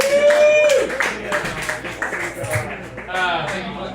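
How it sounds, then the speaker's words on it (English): A comedy club audience claps and cheers for a stand-up comic taking the stage, a dense steady wash of applause with whoops over it, fading slightly near the end. "Thank you for the claps, people."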